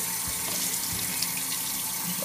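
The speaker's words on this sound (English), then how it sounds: "let the water run in to the spray arm" A steady stream of tap water runs into the spray arm of a Miele dishwasher during cleaning, a constant close hiss and splatter throughout.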